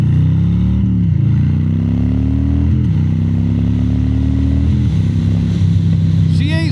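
A Harley-Davidson Street Bob motorcycle accelerates hard, its deep V-twin rumble climbing in pitch through several gear shifts, loud and close, with the engine steady throughout.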